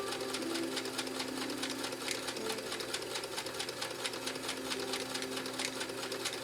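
A Kenmore sewing machine runs steadily at moderate volume, its rapid needle strokes forming a continuous mechanical whir with a faint motor hum beneath, sewing a tight pattern with no pauses.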